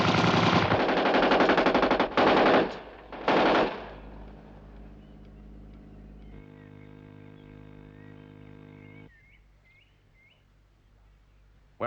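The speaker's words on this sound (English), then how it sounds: "Small caliber automatics by the sound of them." Small caliber automatic gunfire as a TV drama sound effect, heavy rattling bursts up front for about four seconds, then a quieter mechanical hum and faint chirping birds.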